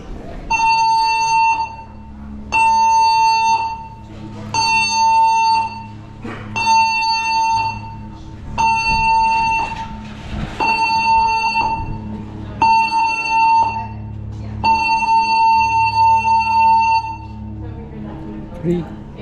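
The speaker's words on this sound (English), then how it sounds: "We will now demonstrate the emergency signal consisting of 7 short blasts followed by 1 long blast on the ship's whistle" A loud signal from the Carnival Mardi Gras cruise ship's whistle and alarm: seven evenly spaced short blasts, then one long sustained blast. A deep, steady hum from the ship runs underneath.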